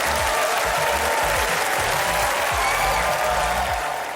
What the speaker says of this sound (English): So, everyone, round of applause